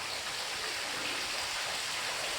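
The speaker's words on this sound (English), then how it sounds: "just looking at the little waterfall" A small waterfall pours steadily beside a trail at a sealed marble mine entrance, a constant broadband rush of water filling the space without pause.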